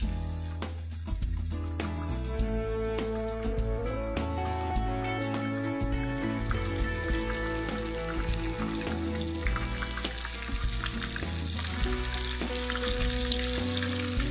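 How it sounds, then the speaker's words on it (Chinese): Youtiao dough sticks topped with seafood paste deep-frying in hot oil, a steady bubbling sizzle running throughout, close by and partly masked by louder tonal background music, with no speech. "就是翻面，直接让后面的油条让它炸酥"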